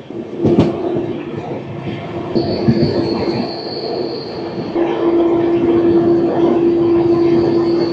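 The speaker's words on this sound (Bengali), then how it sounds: "খুব পাওয়ারফুল ইঞ্জিন তো, এইটুকু ট্রেনকে একাই টেনে নিচ্ছে এই খাট সেকশনেও।" A Hirakhand Express train hauled by a WAP-7 electric locomotive rolls steadily uphill on a ghat section, with a sustained metallic squeal and a deep engine hum, loud and continuous, with a sharp clack near the start.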